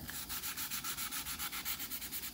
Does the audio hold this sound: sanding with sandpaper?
yes